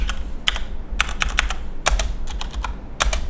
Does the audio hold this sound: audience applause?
no